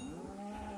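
Cattle moo from a Minecraft cow, a single drawn-out low call lasting under a second, fairly close and alone with no talk.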